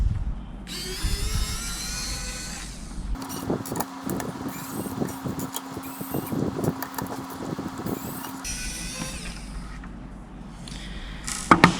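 A small electric screwdriver whirs in a sustained buzzing burst, backing screws out of a Nacon Revolution Unlimited Pro controller, with quieter handling rustle before and after.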